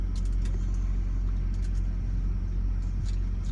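An old car rolls past as a steady, close low engine rumble and road noise, holding even throughout with no speech.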